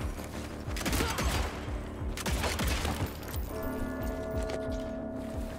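Heavy gunfire from a big gun in the Evil West video game, a rapid run of loud booming shots in repeated bursts across several seconds with no talk over it.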